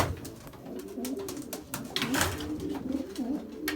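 A homing pigeon, back after 250 days missing, coos in a loft in a series of repeated low throaty calls close by, over a steady background hiss.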